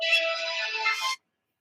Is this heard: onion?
no